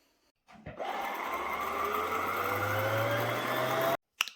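A sewing machine starts up and runs steadily with a close, even mechanical whir that rises slightly in pitch, then stops abruptly.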